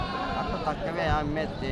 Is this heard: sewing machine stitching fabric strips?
no